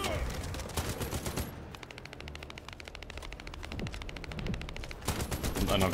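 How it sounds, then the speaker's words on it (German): Rapid bursts of automatic gunfire from a light machine gun in a video game fire in fast repeated volleys, loud and close, with brief pauses between strings of shots. "Alter, wer schießt denn jetzt noch auf mich drauf"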